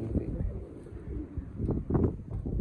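Pigeons coo softly in low, repeated murmurs, with a slight breeze and faint background noise around them.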